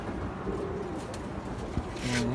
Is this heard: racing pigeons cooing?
yes